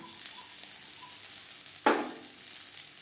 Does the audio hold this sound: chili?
yes